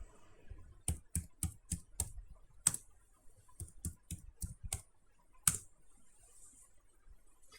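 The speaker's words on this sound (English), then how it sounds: "When you type password, it would not show you. Just type it and hit enter and retype it." Typing a password on a computer keyboard: a quick run of crisp, close key clicks, a short pause, then another burst of taps ending in a firmer keystroke, in an otherwise quiet room.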